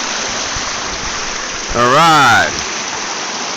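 A creek flows down its main channel as a steady, loud broadband rush of water throughout, with someone speaking a single short word partway through.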